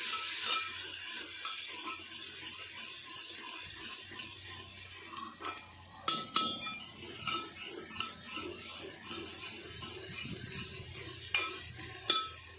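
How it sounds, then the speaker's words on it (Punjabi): Browned onions frying with ginger garlic paste and green chili for desi chicken curry, a low steady sizzle broken by clattering spoon scrapes and stirring against the pot. "ਆਪਾਂ ਇਹ ਚ ਪਾ ਦਾਂਗੇ ਅਦਰਕ ਲਸਣ ਦਾ ਪੇਸਟ ਹਰੀ ਮਿਰਚ ਵਿੱਚ ਤੇ 2 ਮਿੰਟ ਆਪਾਂ ਇਹਨੂੰ ਭੁੰਨਾਂਗੇ"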